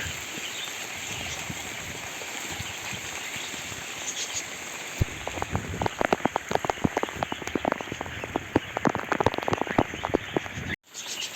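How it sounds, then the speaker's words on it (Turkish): Steady rain falls on an outdoor aviary with dense pattering, then grows into sharper, heavier drips and splashes on a nearby surface, continuous and fairly close. "Yağmur biraz azaldı."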